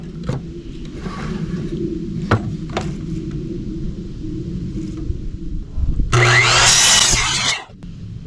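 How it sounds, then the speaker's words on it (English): Power saw cutting a wood upright for a boat stand, a loud harsh burst of cutting near the end after a quieter stretch of workshop noise and thumps. "we'll make sure we put our saw back to 0 so we don't make another angled cut"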